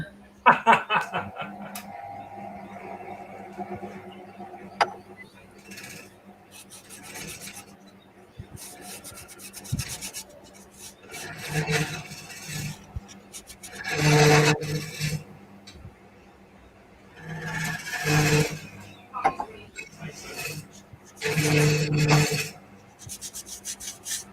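Rough rasping and rubbing of sandpaper on a wooden bowl, sanded by hand, coming in several bursts of strokes with quieter gaps between, fairly close.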